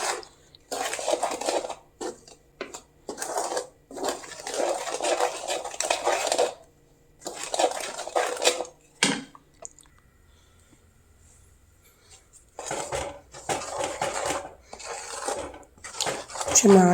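A spoon stirs barfi mixture around a pan on a gas stove, making repeated scraping and clinking strokes in bursts separated by short pauses, close and fairly loud.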